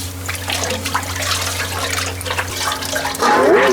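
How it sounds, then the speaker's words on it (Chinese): Tap water runs steadily into a sink while pork belly skin is washed, a close, continuous rushing splash with a low hum beneath, growing a little louder near the end. "再清洗一遍，把那个皮一点给它洗干净哈。"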